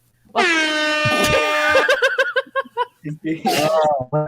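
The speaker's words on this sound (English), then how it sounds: "I'm gonna air horn every comment." A loud blaring air horn sounds for over a second, followed by laughter and chatter, then another short burst of the horn near the end.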